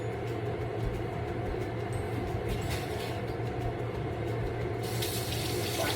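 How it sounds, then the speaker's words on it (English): Hands are washed under a kitchen tap, with steady running water splashing continuously and close by. The flow briefly swells louder near the end. "Wash my hands."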